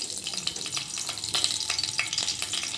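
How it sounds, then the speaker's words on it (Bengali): Potato pieces frying in hot oil give a dense, continuous sizzle with scattered crackles and occasional stirring, close and steady. "আলুগুলোকে ভেজে নেব।"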